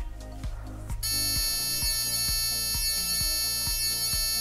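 Vibration motor in a homemade smart bracelet buzzes steadily and loudly up close, a sustained electric whine with a rhythmic pulsing undertone throughout.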